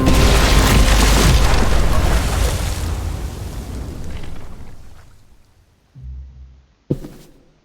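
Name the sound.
bomb explosion in The Walking Dead video game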